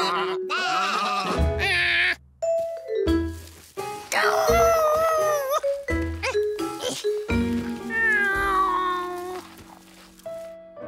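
Animated sheep bleat repeatedly in a cartoon, several wavering, tonal calls overlapping one after another, loud and close with short gaps between them.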